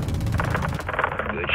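Rapid gunfire from rounds being fired in Call of Duty: Modern Warfare 2, a loud close string of sharp repeated shots with a radio-style voice speaking over it.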